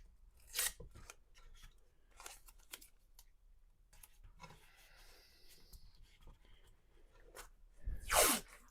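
Masking tape laid across the back of a guitar body, over its holes, with sharp ripping pulls off the roll at the start and end and softer rubbing and pressing in between.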